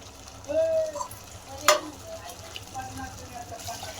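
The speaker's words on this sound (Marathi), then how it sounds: "आता मस्त मसाले तळून घेऊ त्या मसाल्याला तेल सुटूस्तवर परतून घेऊ" Masala frying in oil for mutton curry, a low steady sizzle with a few stirring scrapes and one sharp metallic clink from the spoon, close by, with some background murmur.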